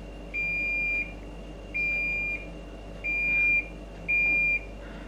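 A Bosch D-Tect 120 wall scanner gives four clear, evenly spaced electronic beeps, each about half a second long, with steady tone over a quiet room background.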